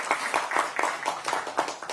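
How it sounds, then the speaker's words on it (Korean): A crowd applauds at a Democratic Party election committee launch rally in Korea, with clapping that swells and pulses at a quick, even rhythm and no clear talk on top. "큰 박수를 보내주시기 바랍니다"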